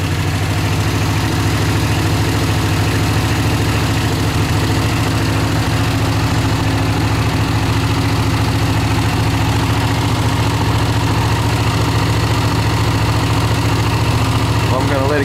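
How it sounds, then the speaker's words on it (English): A Honda CX 500 motorcycle engine with 30,000 miles idles steadily and loudly close by, a continuous low throbbing rumble with a slightly noisy side and no change in pace throughout. "Let it get at the temperature and rev her up."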